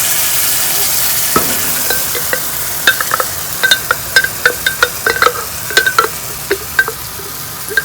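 Alfredo sauce goes into a hot pan with shrimp over a steady sizzle, with scattered sharp clicks and taps of a utensil against the pan growing more frequent, loud and close.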